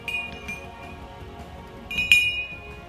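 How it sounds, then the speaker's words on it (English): A spoon clinks against a glass while stirring a fig vodka martini, a few light ringing taps with a brief flurry near the end, close and quiet. "give it a stir"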